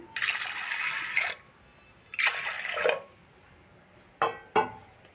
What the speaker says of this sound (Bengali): ডালে আমি জল দিয়ে দেবো পরিমাণ মতন